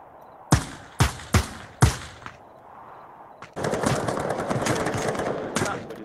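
Gunfire in a VR shooting video game: four sharp, loud shots spaced about half a second apart, a short lull, then a dense sustained burst of rapid fire and noisy action.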